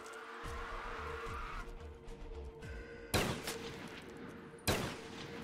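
Gunfire from a pack-a-punched weapon firing three bullets per shot in Black Ops 3 Zombies, two sharp loud bursts a second and a half apart over a steady game background hum.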